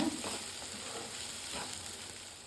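Ground horse gram being stirred into an upma mixture in a pan, a soft continuous sizzle with faint scraping strokes of the spoon, steady and close, no voices.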